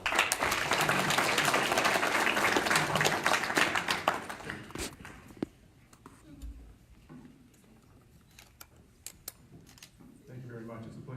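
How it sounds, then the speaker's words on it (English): Audience applause at a public forum about the GM Oshawa plant, dense and loud for about four seconds, then dying down to scattered claps, light knocks and quiet room noise. "Dimitri, let's give him a round of applause."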